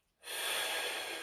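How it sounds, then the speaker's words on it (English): A deep breath drawn in during a stretching routine, one long airy inhale starting sharply and holding steady, close to the microphone and fairly loud. "Deep breath in."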